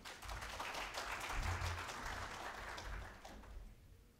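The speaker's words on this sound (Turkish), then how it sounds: "Alkışlarınızı efendim." Faint, steady applause from an audience at the opening of a personal data protection summit, a soft, even wash of hand claps heard from a distance in a hall.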